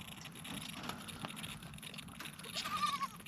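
Young goat kids bleating while bottle-fed milk at a herders' camp in the Rajasthan desert, a thin wavering bleat rising near the end over steady low rumbling and background noise.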